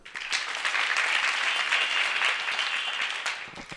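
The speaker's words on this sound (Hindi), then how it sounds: "वाह वाह, ताली बजा दो।" An audience at a religious discourse bursts into clapping, a dense, fairly close round of hand claps that swells quickly, holds for a few seconds and then tapers off.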